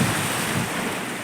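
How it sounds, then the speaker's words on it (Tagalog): Sea surf crashing onto a beach at Clearwater Bay, a steady broadband wash with wind noise filling the short moment, loud and close with no voices. "Ang hampas ng dagat."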